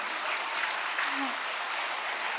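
Audience clapping at a school English Day event, a short dense burst of applause from a crowd, steady and fairly loud from start to finish.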